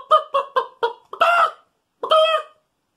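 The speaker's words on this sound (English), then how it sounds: "And a chicken can cluck." A chicken clucks in four quick, evenly spaced clucks, then gives two longer, drawn-out squawking calls with a short pause between them. The sound is close and clear, with nothing else heard.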